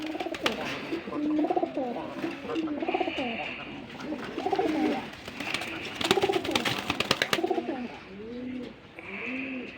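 Pigeons at a wholesale pigeon market, including a pair of Giribaz pigeons, coo repeatedly in steady overlapping phrases, close by, with chirpy background noise and a bit of distant voices.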